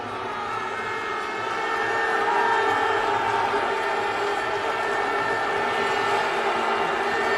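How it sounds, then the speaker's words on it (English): A big stadium crowd at a cricket match between Pakistan and Australia roars and cheers in a steady, sustained wash of noise. "Crowd responds again."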